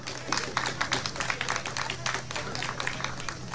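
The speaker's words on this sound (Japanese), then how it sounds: "どうぞこちらも温かい拍手をお願いします" Warm applause from the audience at a live band concert at an outdoor town walk market, scattered clapping at moderate level under a low steady hum, with a voice talking faintly over it.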